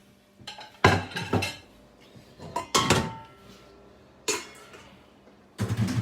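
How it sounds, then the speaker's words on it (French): Metal utensil clanks and scrapes against a pot while penne pasta is stirred, several separate bursts of clattering spread over a few seconds with quiet gaps between them, close by and with no talking. "Hop, je mélange mes pâtes."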